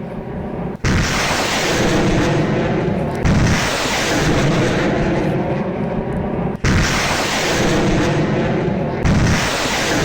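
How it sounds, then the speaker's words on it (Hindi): Russian multiple rocket launcher strikes on Donetsk, a dense continuous roar of rocket fire with sharp breaks as new salvos begin, loud and sustained, with no voices. "जिसे पूरी तरह से दहला दिया अपने मल्टी लॉन्चर रॉकेट सिस्टम से रूस ने"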